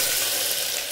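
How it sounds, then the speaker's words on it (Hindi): Whole spices and ginger frying in hot oil for a mutton masala, a steady, close broadband sizzle that holds evenly for about a second with no voices. "तेल गर्म हो चुका है, इस पर हम डालेंगे खड़े मसाले।"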